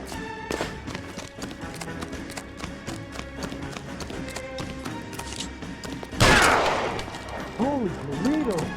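Gunshots ring out in the L.A. Noire video game during a tense standoff, with a loud burst near the six-second mark amid background game music, ambient noise and talk.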